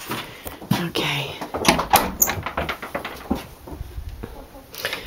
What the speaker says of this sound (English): Original door handle, which is kind of cool.